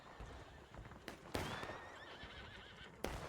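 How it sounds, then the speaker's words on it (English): Neighing of a wounded horse in a Civil War battle video game, a wavering whinny rising around mid-clip over steady battlefield noise and hoof clatter, with sharp gunshot-like bursts. "That guy just injured his horse."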